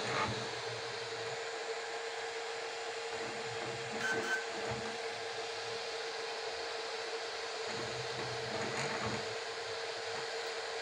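A FLSun Super Racer delta 3D printer running a print job, a steady faint mechanical whir and hum with soft stepper-motor tones and occasional brief clicks, continuous with no speech.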